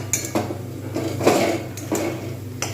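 A spoon scrapes and clinks against a pan while a roasted rice laddu mixture is stirred, giving a few distinct metallic strokes over a steady low hum.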